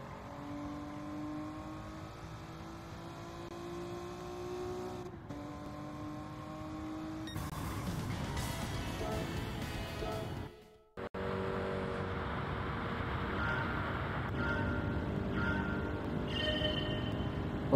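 Car engine in Gran Turismo 7 building revs under throttle on a racing licence test, a fairly quiet steady drone that rises in pitch, briefly cuts out, then returns stronger.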